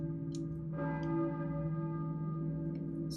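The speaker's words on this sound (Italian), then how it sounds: "Io sento la campana di una chiesa, possibile?" A church bell tolls in the video game Silent Hill, one sustained, ringing strike with a long resonant hum that lingers for seconds, heard alone with a few faint clicks.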